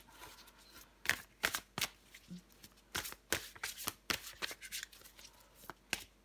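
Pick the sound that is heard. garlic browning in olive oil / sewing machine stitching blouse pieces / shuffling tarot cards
shuffling tarot cards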